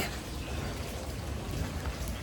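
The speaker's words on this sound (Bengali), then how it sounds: "বৃষ্টি কমছে" Steady, even rainfall hisses continuously, a soft broadband patter with no voices.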